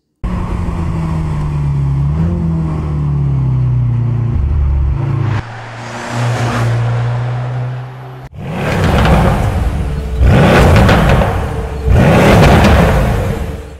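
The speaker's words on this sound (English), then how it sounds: "The new C63 sadly loses its V8 engine, and in its place we now have a 4-cylinder that sounds like this." A 2024 Mercedes-AMG C63 with an inline four-cylinder engine in place of the old bi-turbo V8 idles, then revs hard in repeated loud bursts, each swelling and falling away, heard close with no talking.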